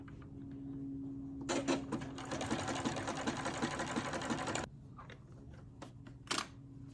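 A serger sewing machine runs at speed stitching two layers of fabric, a close, loud, steady mechanical whir lasting about three seconds, with softer handling clicks before and after.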